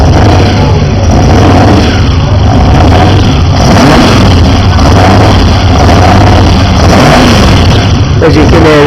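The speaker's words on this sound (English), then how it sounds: "As you can hear, it's popping back a little bit in the exhaust" A reconditioned Jaguar XJ12 V12 engine running rich on a test bed, loud and steady with a continuous rumble, popping back in the exhaust now and then.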